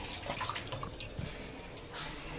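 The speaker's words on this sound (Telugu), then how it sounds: "ఈలోపు చికెన్ అనేది మనము ఇక్కడ శుభ్రంగా కడిగేద్దాము" Small chicken pieces are washed in water for a hotel-style biryani, with close splashing and sloshing that rises and falls under faint background noise for a couple of seconds.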